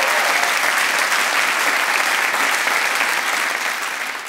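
Loud, dense studio audience applause on a live Flemish late-night talk show, a sustained roar of many hands clapping that holds steady, then eases off slightly at the end.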